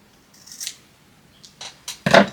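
Scissors snip through crochet hair extensions in a few quick, close, crisp cuts, the last one loudest, with quiet gaps between and no talking.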